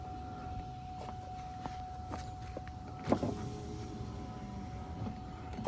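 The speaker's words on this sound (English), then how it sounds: "Let's see if the window goes down." Rear power window motor on a 2008 or 2009 Hummer H2 hums steadily as the window lowers, with a faint tonal whine, a few soft clicks, and a sharper thunk midway through.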